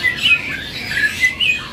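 A caged songbird at a bird kiosk gives short, high, bright chirps and squawky calls in several brief bursts, heard close over a faint background murmur.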